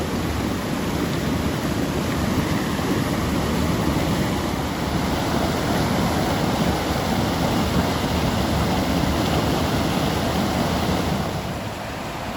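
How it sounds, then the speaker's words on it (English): A small stream with a waterfall runs beside a railway track at a crossing near a park and lake, giving a steady, loud broadband rush of water that holds constant throughout with no voices. "Nice little stream with a waterfall alongside the track here at the crossing."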